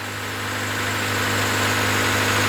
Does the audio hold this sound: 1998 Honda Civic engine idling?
yes